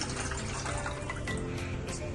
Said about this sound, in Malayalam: ആ വെള്ളം ഈ പാത്രത്തിലേക്ക് ഒഴിക്കുന്നു